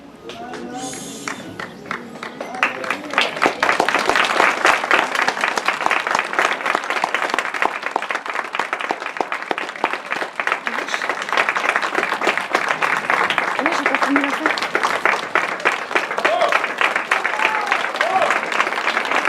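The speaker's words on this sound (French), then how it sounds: "Je pense qu'on peut lui applaudir encore plus fort." Applause from an audience at an event about urban and rural beekeeping, sustained dense clapping filling the room for about twenty seconds at steady loudness, with a few voices and cheers mixed in.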